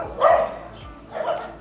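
Dogs bark in a neighborhood in Santa Rosa, Nueva Ecija, Philippines, two short bursts of barking at moderate distance in an otherwise quiet street.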